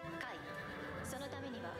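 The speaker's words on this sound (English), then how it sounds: "look at Yom on that horse" A horse neighs in an anime episode, a single sweeping whinny near the start over a busy soundtrack of music and effects, with a later softer falling call.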